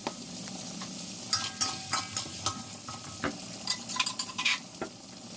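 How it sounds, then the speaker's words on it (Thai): Fried tofu, dried shiitake mushrooms and soy protein are stir-fried together in a pan, with a soft sizzle underneath and irregular sharp scrapes and clinks of a utensil against the pan. "นำทุกอย่างไปผัดรวมกันให้สุก"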